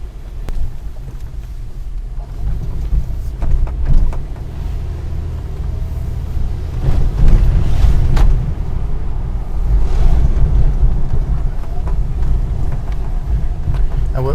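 Lifted Toyota Fortuner SUV fitted with Maxxis RAZR tyres on a test drive, a steady low road rumble and wind buffeting from inside the cabin, with louder surges partway through.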